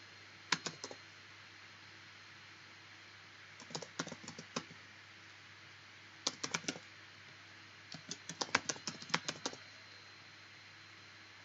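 A computer keyboard is typed on in short bursts of quick, quiet clicks separated by pauses, close by over a low steady hum, as an email address is entered.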